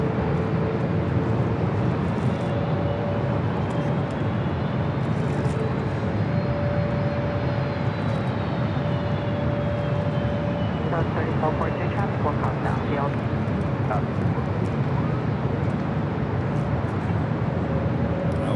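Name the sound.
British Airways Boeing 777-300ER jet landing at LAX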